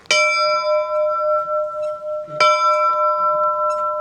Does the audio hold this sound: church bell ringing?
yes